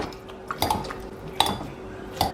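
Firm tofu mashed in a pan, with three distinct clanks of a utensil against the metal at irregular intervals over a soft background, close and without talk.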